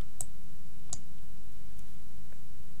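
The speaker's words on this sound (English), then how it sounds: "So now I need to click save" A computer mouse clicks while saving a Contact Form 7 form: two or three faint, crisp clicks spaced apart over a quiet low hum.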